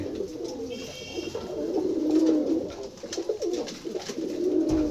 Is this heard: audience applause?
no